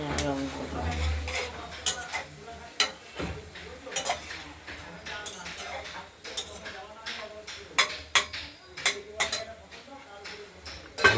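Broccoli frying in a kadai with green chilli and panch phoron is stirred with a utensil, giving repeated scraping and clinking strokes against the metal pan over a soft sizzle, close and at moderate volume.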